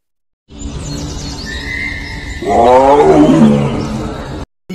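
A tiger roars in the jungle, one loud, close, drawn-out roar that builds into a louder, rougher peak before it cuts off abruptly.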